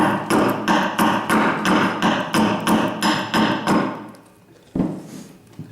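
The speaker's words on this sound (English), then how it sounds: "So now we hewed that to match the other side" A steel axe chops repeatedly into a wooden bow stave, hewing it down toward the heartwood to shape a primitive bow, giving about ten steady close thudding strikes, then a pause and one final blow.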